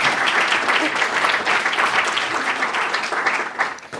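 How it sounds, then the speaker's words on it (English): Members at a sustainability organization's annual meeting give sustained applause, a thick, even roar of many clapping hands, near and loud, easing slightly at the very end. "Let's all give them a big round of applause."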